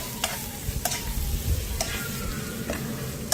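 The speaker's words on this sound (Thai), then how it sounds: "ลงไปผัดเลย" Black tiger shrimp stir-fried in a hot pan for a Thai basil shrimp dish, with a steady close sizzle and periodic sharp scrapes and clacks of a utensil stirring against the pan.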